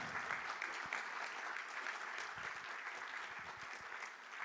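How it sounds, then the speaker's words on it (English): Audience at a conference main stage applauds steadily for a guest from Riga, Latvia, a dense wash of clapping that holds for several seconds and slowly thins toward the end. "Let's give him a round of applause"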